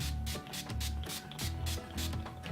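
Setting spray misted onto a made-up face in a short series of pump bursts, each a soft hissing spritz with brief pauses between, close and fairly loud over a low background hum.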